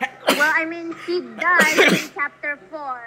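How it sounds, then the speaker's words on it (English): A person sneezes amid casual talk between players during a horror video game session, with short sharp bursts standing out loudly against nearby speech. "I sneezed 3 times and you still didn't say God bless you 3 times."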